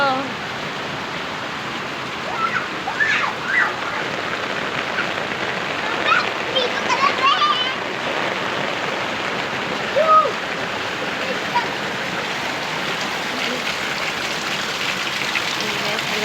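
Steady, dense hiss of heavy rain pouring down during flooding, constant throughout, with faint voices and occasional splashes.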